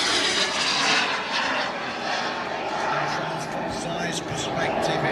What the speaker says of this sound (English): this is the A10, known as the Warthog, or also known as the Tank Buster